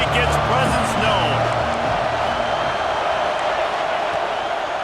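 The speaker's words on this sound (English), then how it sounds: "This crowd ready to make its presence known." Stadium crowd noise in the video game College Football 26, a steady, loud roar of a packed crowd filling the whole stretch with no breaks, while a commentator talks over it.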